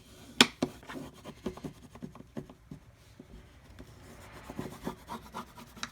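Paper being burnished for a wedding keepsake craft album gives a quiet run of soft rubbing and scraping strokes, one sharper scrape near the start, then irregular close-up rubs with no talking.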